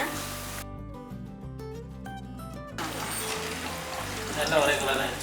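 Badusha sweets puff as they fry in oil, with a broad, bubbling sizzle that swells toward the end under a speaking voice, and background music plays partway through.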